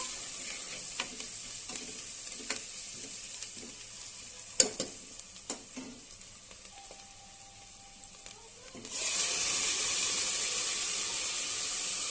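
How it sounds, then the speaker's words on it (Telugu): Tomato puree poured into a hot pan for a colocasia and raw mango pulusu; a few spoon taps and clinks sound first, then a sudden loud, steady sizzle takes over and continues close up, with no speech. "ఇప్పుడు టమాటా ప్యూరీ మొత్తం వేసుకోవాలి."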